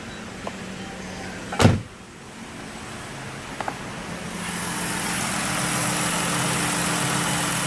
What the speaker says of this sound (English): Freaking car still running.